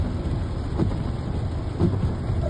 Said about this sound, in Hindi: बढ़िया तेज पड़ रही है भाई बारिश